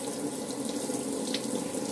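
Water runs steadily from a tap into a sink as hands are washed, a continuous close splashing hiss throughout with no talking.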